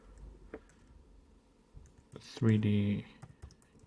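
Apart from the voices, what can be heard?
typing on a computer keyboard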